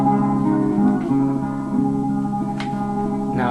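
A sampled beat rearranged in 4/4 on a Maschine plays briefly: a looped, melodic sample with sustained tones and a few soft percussive hits, steady level, no speech.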